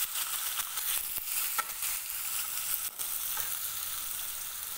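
Finely chopped onions dropped into hot oil with cumin seeds, giving a close, continuous hiss of frying broken by a few sharp clinks and stirring knocks.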